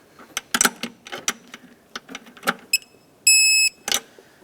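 Ratchet clicks tightening the throttle body bolts on a 2009-2014 Ford F-150 5.4L, close and crisp, in irregular short bursts, followed by a brief electronic beep near the end.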